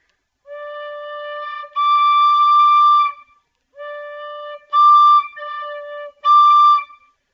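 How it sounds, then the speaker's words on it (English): A tin whistle plays a steady low D, then jumps an octave to high D, alternating low and high in clear sustained tones. "I'll play the low D and then the high D just by pushing a little bit more air through there"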